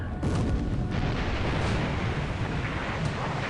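A massive ship explosion rumbles through a naval war video game battle, a dense, continuous roar of booming blasts and heavy low rumble lasting several seconds, with no voices.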